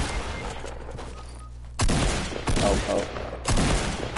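Loud bursts of video-game gunfire crack in sharp volleys after a quieter lead-in, with a brief startled voice cutting in between shots.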